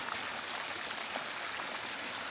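San Cristobal Creek in northern New Mexico flowing steadily near Taos Ski Valley, a continuous broadband rush of moving water heard up close with no voices and no breaks.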